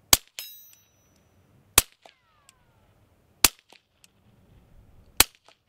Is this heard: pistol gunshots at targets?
yes